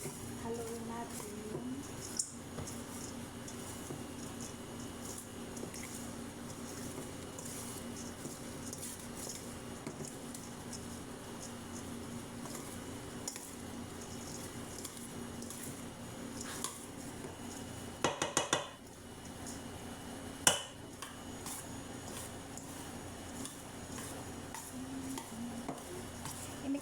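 Parsley and mango salad is tossed and stirred in a bowl, with soft steady scraping and occasional utensil clinks against the dish, fairly quiet and continuous.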